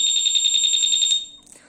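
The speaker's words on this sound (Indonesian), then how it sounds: "jadi kalau alarm masih aktif, motor disenggol dia akan bunyi" A Honda motorcycle's anti-theft alarm, triggered by bumping its module, pulses a steady electronic tone rapidly and loudly for over a second, then cuts off, leaving faint background noise.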